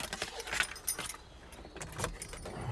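Keys for a 2016 Vauxhall Vivaro Bi Turbo Sportive crew van jangle in bursts, metallic and fairly close, over a faint background of vehicle cabin noise.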